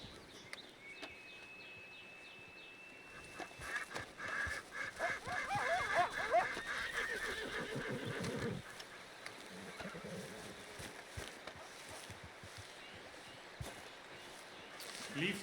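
An anxious horse in Red Dead Redemption 2 whinnies and snorts in a brief, fairly close burst near the middle, set among outdoor ambience with someone talking.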